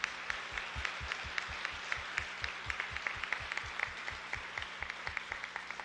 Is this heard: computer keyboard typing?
no